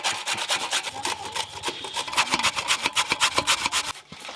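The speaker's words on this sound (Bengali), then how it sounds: "দিদি শিলনোড়া তুলে নি, গেটার দিয়ে কাজ সেরে নিচ্ছে" Pumpkin is rubbed against a hand grater in a kitchen, producing rapid, repeated rasping strokes, close and crisp, in an uneven rhythm with a short pause near the end.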